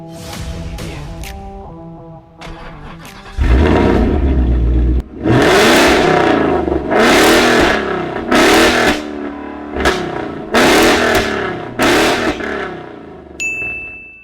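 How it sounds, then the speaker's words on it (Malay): Fastback coupe with an upgraded full-system exhaust and four exhaust tips revs hard several times, loud and close, with sharp rises and falls after a few quieter chimes at the start. "Selepas upgrade full system exhaust, empat exhaust tip, fast back coupe."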